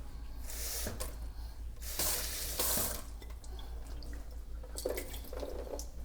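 Tap water running and splashing as bread is moistened in a kitchen while paella is prepared, a steady wash of flow with brighter spray bursts and a few drips, close and fairly loud, with no one talking.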